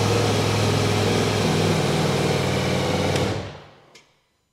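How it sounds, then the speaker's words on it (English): Ducati Multistrada V4 S motorcycle engine running steadily and loud up close, then cutting off abruptly near the end, leaving a brief click and silence. "Until the engine starts,"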